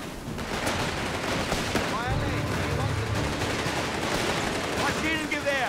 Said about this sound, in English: Machine gun there.